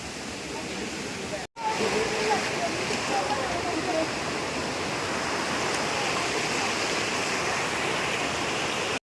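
Steady, broadband rush of falling water from Dudhsagar waterfall in Goa, loud and continuous, with a brief dropout early on.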